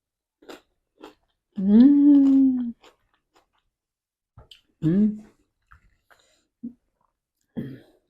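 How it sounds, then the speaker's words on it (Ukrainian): Crunchy bites and chewing of fresh radish come in a few short, close, fairly quiet bursts, separated by pauses and by a couple of longer voiced hums or murmurs from the person eating. "І редиску їм, бачите, вже в цьому году їм."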